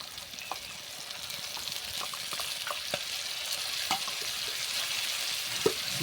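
Tomato gravy frying in a pan for a Bengali cabbage dish, a steady close sizzle broken by soft scrapes and clicks of stirring, with no talk.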